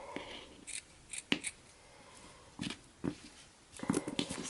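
Scissors trimming the tassels of a patchwork scrap weaving, several short, crisp snips in quick clusters with quiet gaps between, close and fairly soft.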